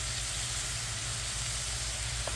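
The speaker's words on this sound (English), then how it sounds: "our peppers and onions and garlic have been sauteing for about 2-3 minutes" Peppers, onions and garlic sautéing in a pan give off a steady, even sizzle with a soft hiss, unbroken for the whole stretch, with no one speaking.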